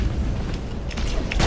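A nova cannon fires in the space strategy game Battlefleet Gothic Armada, a deep, loud boom rolling over dense battle noise, with a few sharp bursts layered through the short stretch.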